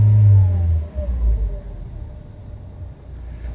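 The engine of a Toyota Calya / Daihatsu Sigra revs up as the throttle is pressed. A loud low hum rises and falls within the first second and a half, then settles into a quieter idle rumble.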